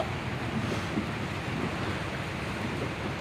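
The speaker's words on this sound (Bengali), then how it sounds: "অঝরে বৃষ্টি হচ্ছে" Heavy rain pours steadily at Marina Bay, Singapore, a dense, even hiss of falling water that stays loud and unbroken throughout with no voices.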